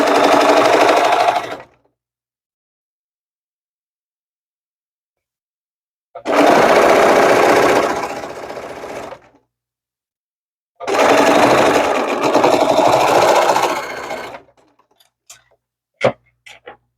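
A sewing machine stitching fabric for a toiletries bag runs in three loud, close bursts of rapid mechanical whirring separated by silent pauses, followed by a few faint clicks.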